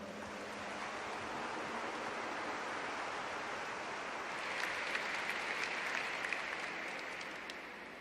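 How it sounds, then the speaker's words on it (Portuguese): A church congregation at a Canção Nova Catholic preaching event applauds in a dense, steady wash of clapping that grows slightly louder and brighter toward the end, with no talk over it. "Vamos aplaudir essa palavra."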